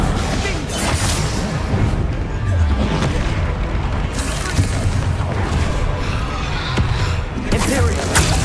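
Bombarda blasting spells go off again and again in Hogwarts Legacy, loud booming explosions piling onto one another in a dense, unbroken battle din, with a voice shouting spell names over the noise.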